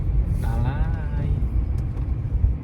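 A car engine rumbles low and steady throughout, with a brief voice rising over it near the start.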